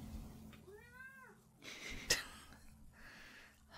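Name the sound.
cat meowing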